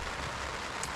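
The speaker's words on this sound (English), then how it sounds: "It has now been raining for an hour and a half." Steady rain falls on a campsite along the South West Coast Path near Branscombe and Lyme Regis, a dense, continuous hiss of drops on surfaces with no voices.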